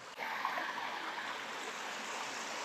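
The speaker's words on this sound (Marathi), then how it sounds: "जाताना रस्त्यात अशी पाणी वगैरे लागते जी धबधब्याच्या इथून येते वरून." Shallow water runs down from a waterfall across a footpath through farm fields, a steady, even rushing and trickling that stays moderately loud throughout with no voices.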